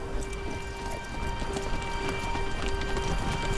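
Horses' hooves clip-clop in a steady, dense rhythm as a documentary sound effect for World War II horses supplying Wehrmacht troops, heard alone against a constant noisy background.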